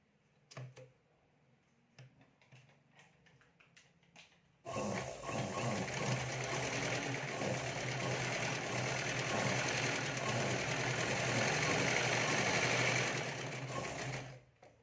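Sewing machine stitching folded fabric for a potli pouch, a steady rapid mechanical whir running about ten seconds close up after a few quiet handling clicks, then stopping abruptly.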